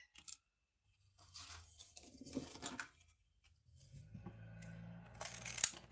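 Scissors snipping through material while building a ball-in-a-maze puzzle prototype; a few quiet, close crunching cuts separated by pauses, with some rustling and handling noise.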